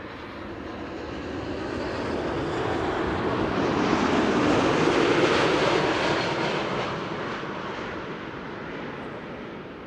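Boeing 787 Dreamliner arriving at Amsterdam Schiphol Airport, a broad jet roar that swells gradually from a distance, peaks mid-way and then fades as it passes.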